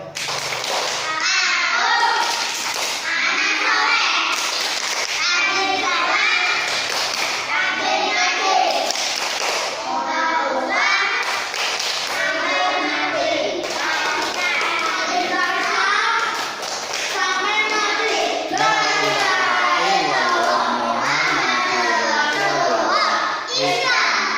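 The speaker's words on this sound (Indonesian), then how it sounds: "Anak-anak, tepuk anak soleh." Children chanting and clapping the 'tepuk anak soleh' routine during a lighthearted religious sermon, with a steady run of rhythmic claps under loud, sustained group voices for the full length.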